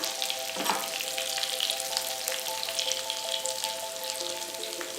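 Curry leaves frying in coconut oil for a Kerala-style ayala (mackerel) fish fry, a close, steady crackling sizzle with dense popping spatter that holds evenly throughout, with no talk.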